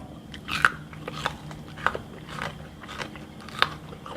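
Crunchy bites and chewing of raw bitter melon, several sharp crisp snaps at irregular intervals over soft, close mastication noise, with no talking.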